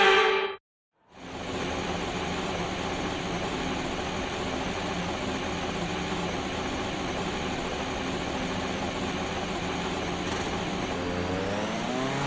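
A Ferrari SF24 Formula 1 car's engine in F1 24 at the Abu Dhabi Grand Prix holds a loud, steady, close drone. After a brief cut near the start it runs continuously with no voices.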